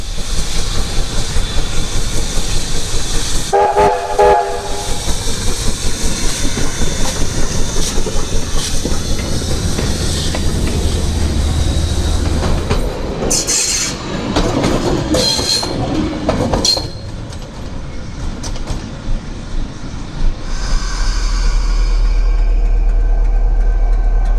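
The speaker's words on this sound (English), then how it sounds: "The train returns from Marton and will spend the night at Taupo Quay." A vintage train rolls into Taupo Quay in Whanganui with loud, rhythmic wheel clatter and hissing, brief tonal blasts, squealing wheels, and heavy rumbling as it slows.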